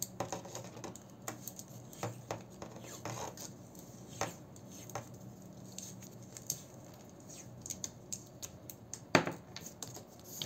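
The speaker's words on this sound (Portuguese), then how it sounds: "É só enrolar a fita isolante." Electrical insulating tape being wrapped around a conduit joint, close and faint, with scattered sticky peeling rasps, rubs and small clicks in an irregular pattern and one sharper crackle near the end.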